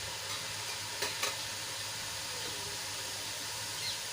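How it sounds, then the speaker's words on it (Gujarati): Besan batter frying in hot oil over a lowered gas flame, giving a steady, dense sizzle and bubbling hiss that continues without a break, with a couple of faint clicks and no speech. "તમે જોઈ શકો છો બેસન એડ કરતાં જ બબલ્સ આવવા લાગ્યા છે"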